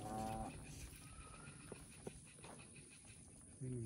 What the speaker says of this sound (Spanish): Es el toro, ¿verdad? Una vaca.